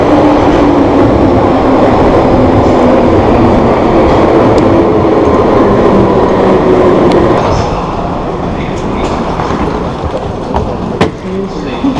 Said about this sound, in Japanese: ロンドンのね、地下鉄すごい小さいんですよ、幅が。